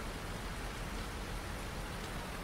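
Steady rain in Farming Simulator 19 on a farm map, a dense, even hiss of falling drops that fills the whole clip with no other sounds.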